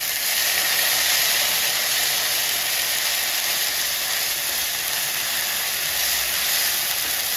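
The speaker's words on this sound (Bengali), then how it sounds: "তেলটা গরম হয়ে গেছে আমি দিয়ে দিচ্ছি লং এলাচ আর দারচিনি ফোড়নে দিয়ে দিচ্ছি পেঁয়াজ রসুন" Cardamom, cinnamon, onion and garlic frying in hot oil, giving a loud, steady sizzle that carries on unbroken throughout.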